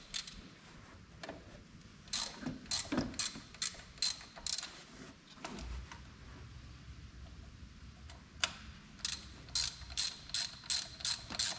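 A ratchet works loose the water pump bolts on a hurt '97 Monte engine, giving quiet bursts of rapid clicking with short pauses between runs, close by and without talk.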